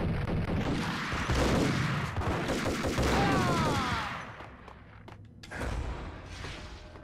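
Rapid gunfire bursts from the video game Max Payne, a loud fusillade of overlapping shots with thuds that fades into quieter scattered sounds toward the end.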